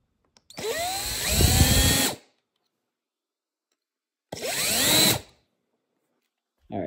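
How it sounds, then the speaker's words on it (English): Power drill boring into a lightsaber hilt in two close, loud bursts of whining motor and grinding bit, the first about a second and a half long and the second shorter, with a third just starting at the end. "so I need 2 hands to drill"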